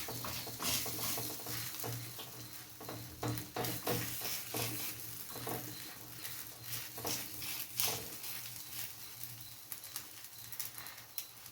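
Masala rava roti dough is patted out and cooks on a hot griddle, with a steady soft sizzle and scattered light pats and taps throughout, fairly quiet and close, with no talking.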